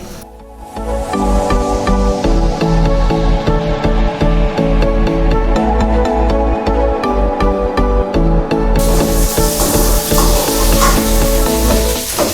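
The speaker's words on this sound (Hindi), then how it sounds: "भिंडी फ्राई करने के लिए ऑयल की ज़्यादा मिकदार लेनी पड़ती है ताकि अच्छी तरह से फ्राई हो सके" Okra frying in a generous amount of oil, a continuous loud sizzle and crackle with stirring scrapes throughout, close up and without voices.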